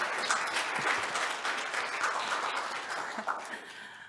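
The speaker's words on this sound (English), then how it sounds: "I know you want to give him an applause." An audience at an integrated emergency services conference session claps for a presenter, a dense, moderately quiet patter of hands sustained evenly for about four seconds.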